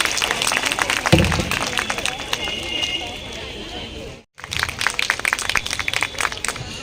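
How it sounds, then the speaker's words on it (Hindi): Audience at a school education event in a village applauds, a dense sustained crowd clapping that starts abruptly, breaks off for a moment, then resumes, with voices mixed in. "एक बार तालियां तो दो हो जाइए"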